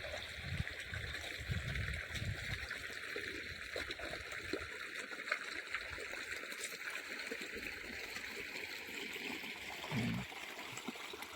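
Water gushing and splashing steadily from a motor pump's pipe outlet, a constant rushing flow with a low mechanical hum underneath.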